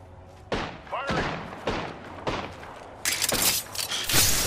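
Gunfire in an Apex Legends match, five or six sharp bursts spaced about half a second apart and then denser shooting at the end, with a voice heard under the shots.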